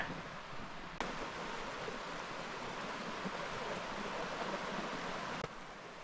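River water flows in a steady, close wash of broadband noise with no breaks, heard alone without voices.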